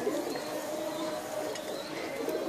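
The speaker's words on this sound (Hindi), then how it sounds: "बहुत ही मजबूत कबूतर है ये।" A strong flying pigeon coos softly and continuously nearby, with a low, steady tone over faint background noise.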